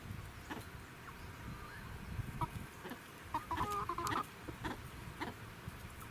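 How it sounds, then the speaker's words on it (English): A hen clucks in a farmyard, with short, moderately close clucks and a brief warbling call over faint outdoor background noise, and no talking. "That's a hen. I'm pretty sure it's a hen."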